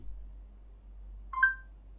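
A smartphone gives a short electronic call tone as it starts placing a call after the power button is pressed twice for a voice command, one quick clean beep over near silence, with no one talking.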